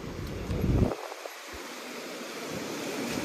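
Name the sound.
sea waves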